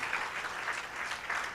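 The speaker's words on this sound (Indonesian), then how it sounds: "Mari yang percaya, berikan tepuk tangan bagi Tuhan." A church congregation applauds together at a worship service, a steady wash of clapping from many hands, moderately faint and even throughout.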